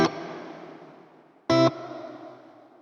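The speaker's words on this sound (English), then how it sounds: "we're going to get a nice wide chorus effect on the reverb" A guitar pedal reverb with chorus modulation set to full depth and high speed, two struck chords each followed by a long, wide, shimmering decay, the second a brief loud stab.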